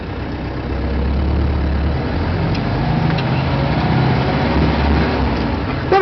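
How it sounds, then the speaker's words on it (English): A Roxor's engine runs loud and close, held at a raised speed of around 2000 RPM as a steady, even drone. "I'll have her bring up the RPM here, guys, to show you what this thing runs in terms of oil pressure."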